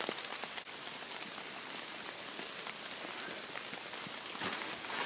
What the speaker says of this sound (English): It's keeping the rain off my pack and my camera.